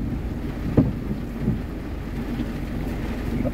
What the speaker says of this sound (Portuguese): nós estamos esperando a chuva passar um pouquinho